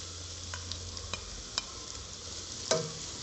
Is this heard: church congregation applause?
no